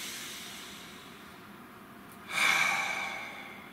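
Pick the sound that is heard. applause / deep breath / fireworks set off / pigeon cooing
deep breath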